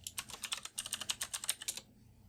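Fingers type a MySQL root login command on a computer keyboard, a quick close run of about eighteen light key clicks in uneven rhythm, ending in quiet.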